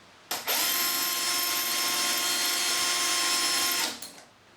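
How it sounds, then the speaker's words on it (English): A hinge sighting drill bores into a UPVC door, one steady high motor whine lasting several seconds that starts abruptly and cuts off cleanly, close and loud. "I'm going to use a hinge sighting drill, and then I'm going to drill through that countersunk hole"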